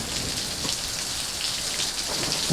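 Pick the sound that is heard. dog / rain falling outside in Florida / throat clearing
rain falling outside in Florida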